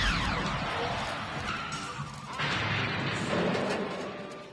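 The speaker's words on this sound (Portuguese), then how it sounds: "A gente só ouve o som e vê aquele reflexo da luz, daquela explosão do DeLorean voltando pro futuro." A loud, rumbling explosion with a crackling burst marks the DeLorean time machine returning to the future in the final scene of Back to the Future, sustained and dense over several seconds with no speech.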